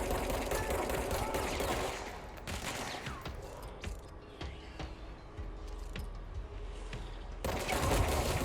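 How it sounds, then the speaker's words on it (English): Gunfire in the video game Control: a rapid burst of loud blasts, then several scattered shots amid the general din of combat. "Oh, shotgun, I think."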